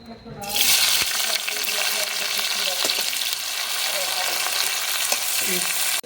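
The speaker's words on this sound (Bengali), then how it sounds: "কড়াইতে তেল দিয়ে দিচ্ছি এবারে দিয়ে দেবো পেঁয়াজ কাঁচামরিচ" Onion and green chilies frying in hot oil in a wok, a loud steady sizzle that bursts in right after a brief quiet start, with a few soft stirring clinks, no talking.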